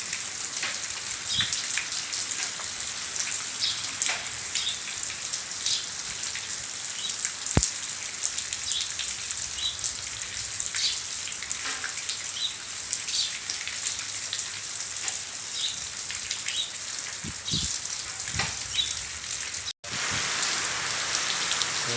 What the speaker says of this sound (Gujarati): આજનો વરસાદ ઝીણો ઝીણો ચાલુ થયો